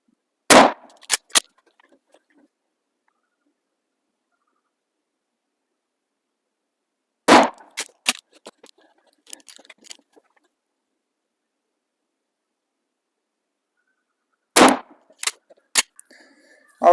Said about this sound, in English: 3 more mini slugs here with the factory bead and safety out of the 12 gauge shockwave